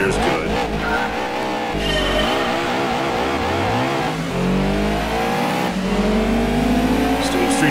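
Lancia race car in the Gran Turismo 2 video game, its engine revving loudly and continuously with rising and falling pitch sweeps as it shifts gears, tire squeal mixed in, and someone talking over it.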